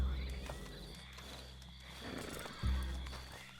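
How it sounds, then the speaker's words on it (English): A horse in the video game Red Dead Redemption 2 lets out a long, loud whinny and snort close by, with some hoof clopping and outdoor ambience around it. "Real nice looking horses."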